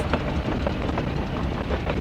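A train in the video game Workers & Resources: Soviet Republic runs along the rails with a loud, steady rumble and regular clickety-clack beats.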